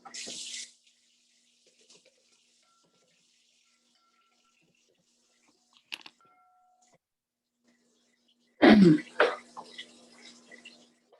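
Hot water runs from a kitchen tap during bread baking in a home kitchen, first in a short burst, then, after a quiet stretch with a faint clink, in a louder, longer gush that tapers off.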